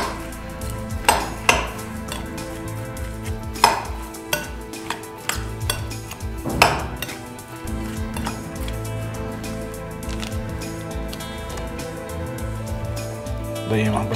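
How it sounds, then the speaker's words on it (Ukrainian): A salad being stirred in a bowl with a utensil, with repeated clinks and scraping of cutlery against the dish running throughout a kitchen cooking scene. "Це все добре вимішуємо."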